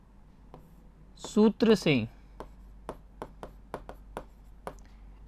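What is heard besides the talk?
writing a formula while solving a maths problem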